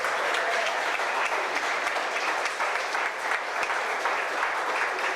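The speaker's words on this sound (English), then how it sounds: "And now, can you please turn to our presenters and give them a round of applause?" Students and families at a high school scholarship awards ceremony give presenters a full, steady round of applause, a thick wash of many hands clapping at once, constant and loud for the whole stretch.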